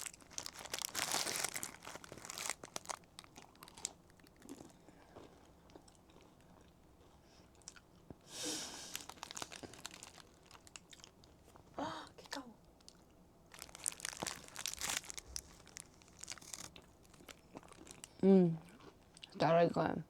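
Cellophane wrapping crinkles around a cream-filled bun, followed by close crunchy chewing and bites, with bursts of rustling scattered between quieter stretches and brief voice sounds near the end.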